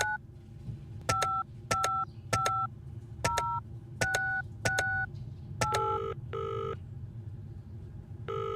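A telephone rings in the Penelope Pendrick video game, with a series of short electronic two-tone rings, evenly spaced and fairly close, followed by a couple of longer tones.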